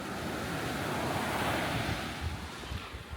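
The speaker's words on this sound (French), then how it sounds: "j'ai peur des vagues en fait" Ocean waves breaking on a beach during a surf lesson, a loud, continuous broadband wash of surf mixed with gusty wind noise on the microphone, with no voices.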